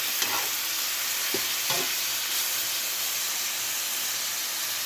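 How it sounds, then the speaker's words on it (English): Garlic chili pork with soy sauce sizzles steadily in a pan for spicy garlic chili noodles, a constant frying hiss with a few soft scraping stirs near the start. "Some soy sauce. Let's give it a stir."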